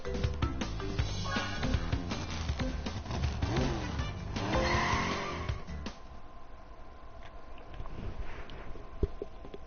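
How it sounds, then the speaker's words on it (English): A kart engine buzzes and whines in Crash Team Racing Nitro-Fueled, rising and falling with tire squeals and skids over busy game music, then settling into a thinner drone. "Listen to that engine."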